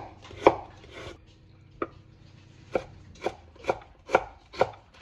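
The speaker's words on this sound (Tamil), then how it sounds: "கேரட்டை நாங்கள் வந்து கொஞ்சம் சாப் பண்ணி போட்டு ஜூலியன் மாதிரி வெட்டி இதோட ஆட் பண்ணுவோம்" A knife chops a carrot into julienne strips on a board. The sharp knocks come singly and irregularly, seven or eight of them, crisp and near with quiet gaps between, and no talking.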